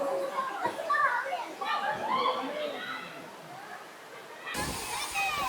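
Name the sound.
people bathing at a waterfall pool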